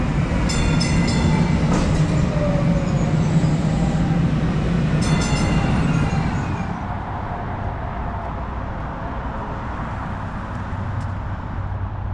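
A DART light rail train at Mockingbird Station, Dallas, rumbles loudly nearby with rattling wheels and brief squeals, then settles into a quieter steady roar as it moves on.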